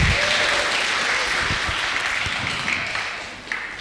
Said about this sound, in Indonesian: Tepuk tangan ke beliau.